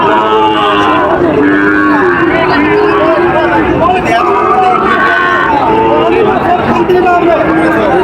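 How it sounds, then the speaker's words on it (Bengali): Many cattle, including Sahiwal bulls, moo loudly and repeatedly at a livestock market, overlapping one another amid a noisy crowd babble of people talking nearby. "এদিকে কিন্তু প্রচুর গরু আছে দশটা"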